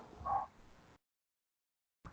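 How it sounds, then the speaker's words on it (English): A neighbor's dog gives a single short, faint bark in the distance, followed by silence. "that is not my dog barking. It's the Yeah, yeah. neighbor's dog. They're always barking."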